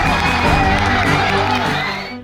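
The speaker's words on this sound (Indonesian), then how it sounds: "Kedatangan Presiden disambut antusias dan sorak gembira para siswa yang menyambut langsung" Schoolchildren cheer and shout together to welcome President Prabowo at a Jakarta junior high school: a loud, dense, continuous crowd roar with whoops, fading slightly at the end.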